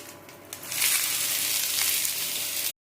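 Onions frying in a pan with curry leaves give a steady broadband sizzle that swells after the first half-second and holds loud and even until it cuts off abruptly near the end.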